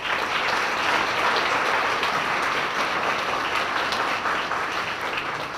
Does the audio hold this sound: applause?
yes